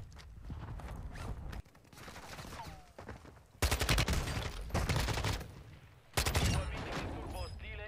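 Assault rifle gunfire in a first-person shooter, with rapid automatic bursts that start and stop in loud, close clusters over game ambience, footsteps and some speech.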